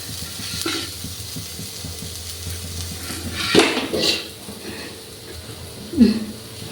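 Tomatoes are mixed in a pan for a soybean dish, with soft stirring scrapes and then a couple of loud metallic clanks as a lid goes on, near and alone.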